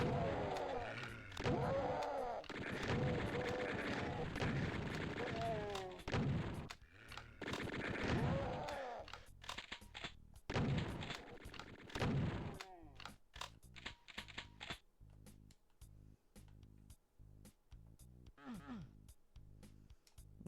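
Chaingunners fire on the player during a Doom II battle on Ultra-Violence, rapid bursts of automatic gunfire crackling in dense volleys through the first half, then sparser sharp shots and thuds as the fight winds down.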